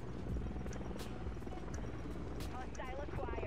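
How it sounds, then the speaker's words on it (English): A helicopter in the shooter game Modern Warfare 3 drones with a steady rotor buzz, mixed with gunfire bursts and other battle noise throughout. "That helicopter's great when it actually works."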